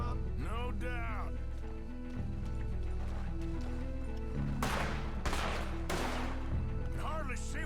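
Bursts of gunfire in a night shootout in Red Dead Redemption 2, several sharp shots in quick succession over music, with voices talking before and between them.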